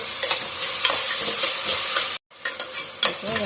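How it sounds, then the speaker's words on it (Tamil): Onions, tomatoes, green chili, mint and ginger garlic paste are sautéed in a pan for a quail curry, giving a continuous close sizzle with stirring scrapes. The sound cuts out briefly midway, and no one speaks. "இப்போ வெங்காயம் தக்காளி நல்லா வதங்கிடுச்சு"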